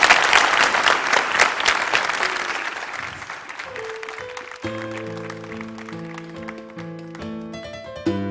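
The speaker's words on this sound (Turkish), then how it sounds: "Alkışlarınızla." An audience applauds loudly at a televised clarinet music show, the dense clapping fading over several seconds as sustained tonal music enters and carries on alone.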